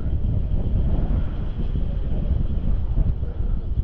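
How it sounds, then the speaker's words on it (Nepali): Strong wind buffets the microphone outdoors on a hazy hillside near Kulekhani, Nepal, a continuous low rumbling roar with uneven gusts. "हावा चल्छ निकै नै"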